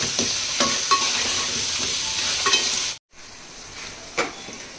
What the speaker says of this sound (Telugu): పచ్చి మసాలా పచ్చి వాసన పోయే వరకు ఫ్రై చేసుకోవాలి